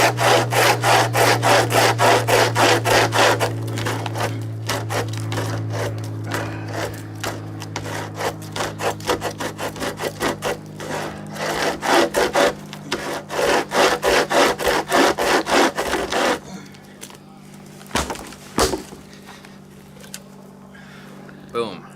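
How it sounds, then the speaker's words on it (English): A handheld chainsaw cuts firewood at a camping trip, giving a loud, steady rasping buzz with rapid repeated strokes for about sixteen seconds, then tapering into quieter scraping and a few sharp bursts, with voices talking over it. "It's a handheld chainsaw."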